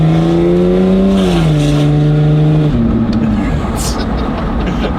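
Turbocharged Holden VL wagon with an oversized turbo that won't build boost, its engine revving hard, then stepping down in pitch twice while held loud and near; people talk over it.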